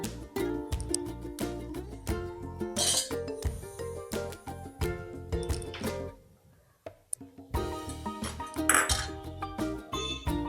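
Ghee-fried pieces get mixed in a pan, with a spoon clinking and scraping against metal in quick irregular taps, close and clear, pausing briefly before resuming.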